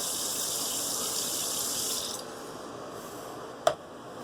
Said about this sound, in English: just getting a shot of cold water real quick